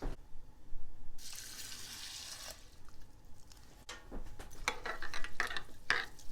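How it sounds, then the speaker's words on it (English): Water runs from a tap and splashes into a container, a steady gushing stream that stops and starts with some clinks and handling noises. "I want 1 cup of water added."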